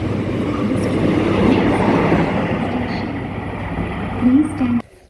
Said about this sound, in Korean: 지금 들어오고 있는 열차는 이역을 통과하는 열차입니다.